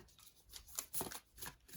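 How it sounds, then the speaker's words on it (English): A Moonology oracle card deck being shuffled up close, a few soft riffling bursts of card edges across about two seconds, quiet and alone. "One more shuffle."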